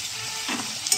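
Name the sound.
potatoes frying in oil in a wok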